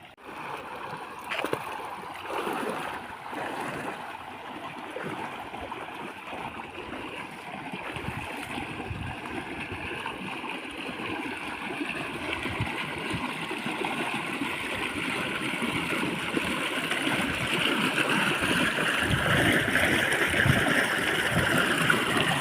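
Water runs and gurgles through a small flowing channel as hands are washed in it, with soft splashes at first and the trickle growing steadily fuller and louder.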